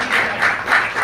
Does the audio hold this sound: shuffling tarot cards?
no